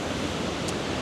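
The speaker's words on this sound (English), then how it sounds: "sit here and watch the waves and learn them" Ocean waves break on the shore at Granite Bay, Noosa, a continuous loud wash of surf filling the whole moment with no voices.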